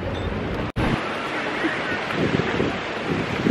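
Wind gusting near the water on a swimming outing, a steady blustery rush buffeting the microphone with surf-like noise, close and continuous, broken by a brief dropout.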